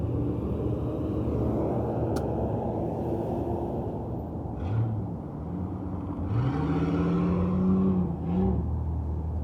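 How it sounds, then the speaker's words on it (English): Loud cars pass on a nearby road, making a steady rumbling roar with engines revving and whirring up and down. No one speaks over the traffic. "These cars are loud right now."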